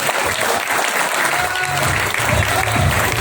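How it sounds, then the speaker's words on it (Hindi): An audience in a Kohinoor Hotel hall claps loudly after a business seminar talk. The applause is a dense, sustained burst heard on its own. "एक बार जोरदार तालियां"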